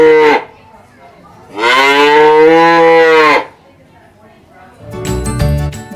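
A dairy calf bawls for its mother in a long, loud, drawn-out call, with a shorter cry before it and metallic clinking and jingling afterward.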